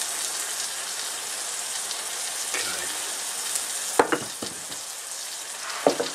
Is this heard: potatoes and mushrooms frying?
yes